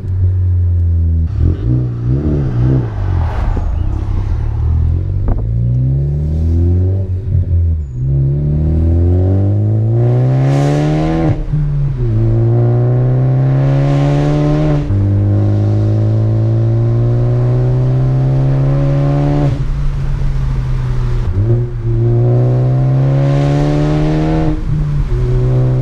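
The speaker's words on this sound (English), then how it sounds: "here's 6th gear, it's very quiet, just cruising down the road" A Ford Focus ST with an aftermarket exhaust cruises in sixth gear, its steady low engine drone rising gently through several gear-like sweeps, a continuous close interior rumble with no voices.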